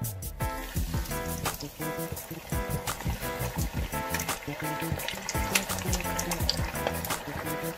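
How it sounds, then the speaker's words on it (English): Goan beef croquettes deep fry in a pan of hot oil, with dense, continuous bubbling and crackling full of sharp pops, close and fairly loud, with no one speaking. "Now I'm going to leave the croquettes inside to get deep fried."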